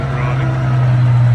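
A Thornycroft Antar heavy truck squeezes past at close range, its loud, steady low engine drone holding unbroken throughout with a faint rumble above it.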